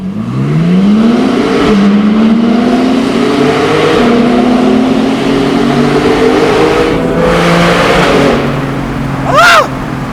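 A Porsche Boxster GTS with its 4.0-litre naturally aspirated engine pulls to high RPM, a loud, steady climbing harmonic drone lasting several seconds, ending with a brief sharp higher-pitched whine.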